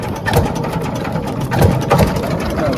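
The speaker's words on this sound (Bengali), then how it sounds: "বোট চালায় রাখো।" A fishing boat engine runs steadily on a river in Bangladesh, a close, continuous mechanical drone with rhythmic low thumping and no talk over it.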